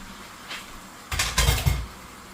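Raw chicken leg and thigh pieces tossed into a cooking pot and mixed, giving a faint knock followed by a couple of close, heavy thuds and scraping clatters, with no talking.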